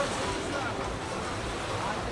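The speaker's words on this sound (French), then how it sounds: "Il y a du vent frais. Un bon petit vent. Rafraîchissant." Fresh wind on the beach at Saranda, Albania, a steady, close rushing noise with no letup for the whole moment, a voice faintly underneath.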